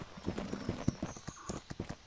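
Rapid hoofbeats clatter in an uneven galloping rhythm, several horses close by, with faint game-like ambience behind them.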